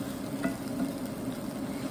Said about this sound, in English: We're gonna stir all that together. You wanna coat the rice with the sofrito.